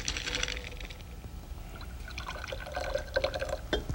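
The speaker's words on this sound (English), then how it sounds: "Sarah, you want to pour some of this blue liquid into the glass, about 2-3 centimeters" Blue liquid pours into a glass to a depth of about 2-3 centimeters during a science demonstration, giving a short splashing trickle that rises near the end, close up and without talk.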